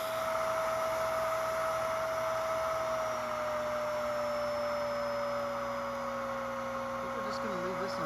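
An ACONEE dog grooming vacuum running on high at setting 16, a steady loud electric whine and motor hum, unbroken and close.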